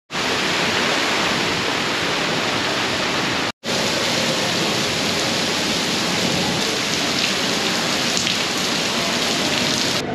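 Heavy rain pours steadily during a flash flood warning along the San Antonio Riverwalk, a loud, dense, unbroken hiss with one brief dropout, and no voices.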